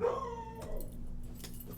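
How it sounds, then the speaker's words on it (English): A dog gives a short, fading howl-like yip near the start, followed by quieter rustling and indoor background noise, with no talking. "don't know why the dog is barking"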